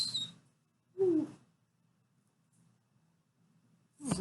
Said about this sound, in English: That was a glue bottle whistle.